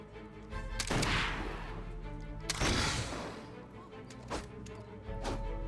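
Gunshots ring out in the Fable III video game. Several loud, sharp blasts come at irregular intervals, each followed by a brief decaying echo, with a low game ambience underneath.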